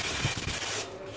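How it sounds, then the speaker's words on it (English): Parts cleaner sprays onto the transmission pan of a 2013 GMC 2500 with a 6.6L engine and Allison transmission, a close, brief hiss lasting under a second before cutting off to quieter shop sound. "We got our parts cleaner, and we just spray her down."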